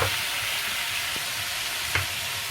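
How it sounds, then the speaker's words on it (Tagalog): Chicken and pineapple pieces sizzle in a hot pan as they're stirred, a steady close frying hiss with a couple of brief scrapes over a few seconds. "Lagay natin yung pineapple. Haluin natin guys."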